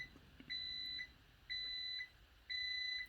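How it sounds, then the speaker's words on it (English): A food dehydrator's timer beeps three times, each a steady electronic tone about half a second long, evenly spaced a second apart, quiet and alone. "had to wait till the beeper went off on my dehydrator"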